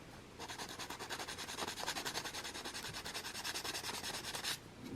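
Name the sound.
rubbing with the rougher side of an abrasive sponge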